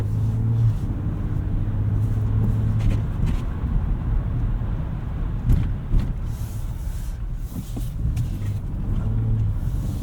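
A Ford Ranger Raptor on BFG KO3 tyres drives over snow in two-wheel drive, sport mode, with an unweighted bed, giving a steady low engine and road rumble throughout with a few brief knocks and no talk.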